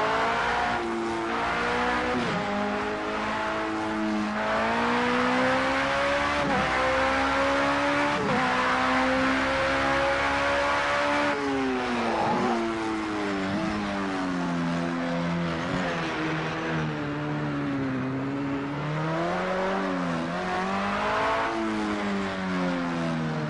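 LMP2/LMP3 prototype race car engine in a racing video game, droning steadily through laps with rising and falling revs as it accelerates and brakes, loud and continuous with no talking.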